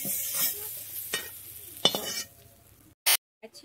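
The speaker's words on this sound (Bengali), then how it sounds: "চিংড়ি মাছটা আমি হালকা করেই ভেজে নেবো, বেশি কড়া করে ভাজবো না।" Prawns are lightly fried in a pan, with a faint sizzle, a few sharp stirring scrapes and metallic clinks, then near silence broken by a short loud clatter.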